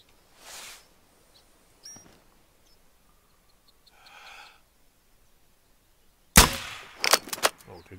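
A sharp, loud gunshot crack in the hunting video game theHunter: Call of the Wild rings out with a brief rattling tail, preceded by a few faint scattered noises in an otherwise quiet scene.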